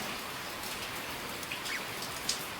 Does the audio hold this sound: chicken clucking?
no